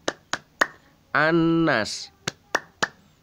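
Steady claps from a second-grade Islamic studies class keep a chant rhythm: three sharp claps, a sung line of voices, then three more evenly spaced claps.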